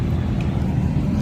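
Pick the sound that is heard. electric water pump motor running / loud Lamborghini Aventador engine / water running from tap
loud Lamborghini Aventador engine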